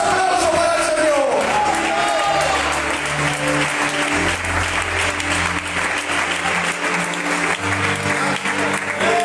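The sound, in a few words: church congregation applauding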